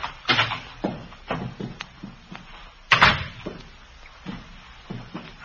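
A door is handled and opened in a quiet interior, giving a series of close, irregular clunks and knocks with one louder bang midway.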